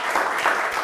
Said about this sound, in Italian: Facciamo un applauso anche a Ferruccio